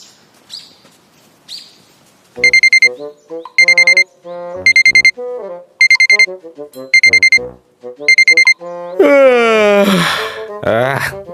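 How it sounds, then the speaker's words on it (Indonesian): An alarm clock rings loud and close in repeated bursts of electronic beeping, several short pulses in a row, followed by a person's groaning, wailing voice. "Alarm udah bunyi aja ya."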